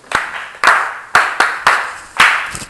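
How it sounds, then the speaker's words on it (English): A small group claps for themselves in a handful of sharp, separate bursts, each clap loud and close with a short ring-off between them, roughly every half second. "Let's clap for ourselves"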